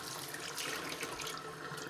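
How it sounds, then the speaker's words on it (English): Tap water runs steadily from a faucet into a sink while hands are rinsed of bleach, a continuous close splashing hiss with no voices. "when you're done, rinse your hands off"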